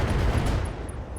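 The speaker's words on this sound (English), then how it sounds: "Firing all weapons." Mech weapons fire in the RogueTech battle game, including an autocannon: a dense, loud burst of booming gunfire rolling over about a second, with a few sharp high electronic pings on top.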